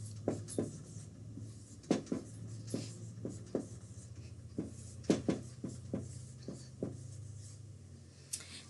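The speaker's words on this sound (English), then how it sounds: "I would like for you to write the decimal number down 3 times" Pen or pencil writing a decimal number by hand: a close series of short scratchy strokes and taps in an irregular rhythm over a quiet low hum.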